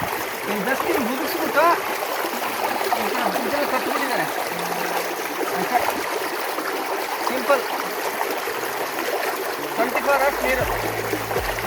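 Steady broadband rush of stream water feeding a household water supply near Abbi Falls, Agumbe, running continuously throughout, with voices talking faintly underneath.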